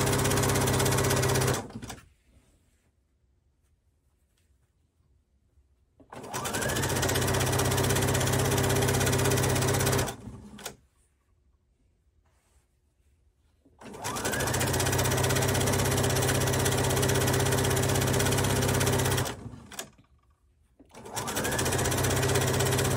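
A sewing machine stitches a seam on a fabric waist sash in long, loud bursts of several seconds each, separated by quiet pauses, close up with no talking.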